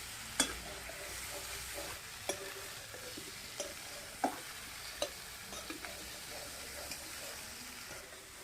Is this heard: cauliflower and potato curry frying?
yes